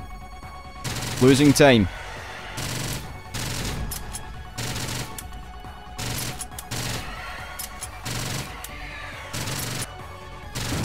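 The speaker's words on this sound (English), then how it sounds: "Let's shoot just a couple of grenades." Grenade launches and blasts in the PC shooter STRAFE, a series of sharp, loud booming bursts spaced a second or two apart over a steady game backdrop, with someone briefly talking near the start.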